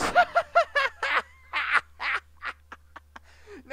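A human voice imitates a goose honk with a quick run of nasal, squawky bursts of uneven length, close and moderately loud.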